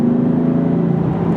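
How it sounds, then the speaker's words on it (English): Inside the cabin of a BMW M4 with an inline-six engine, a steady, moderately loud engine drone hums with a faint tonal note, unbroken and with no talking. "It sounds really like muscle car-y, I think, even though it's just like an inline six."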